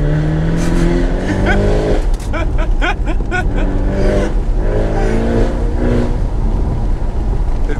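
A Ferrari engine revving and pulling hard as Martina drives along a deserted road, a loud close engine drone with rising and falling pitch running throughout under excited voices talking.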